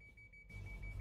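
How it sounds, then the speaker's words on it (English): Steady electronic beeping tone from an exploding barrel in a video game, a single sustained high pitch over low rumbling background, fairly faint. "Uh-oh, I hear the beeping."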